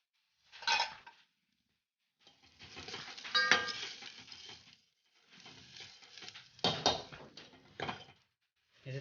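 Onions with ginger, chili and garlic sizzle in a pan at home, in bursts of scraping and stirring with a spoon clattering against metal, separated by short quiet gaps.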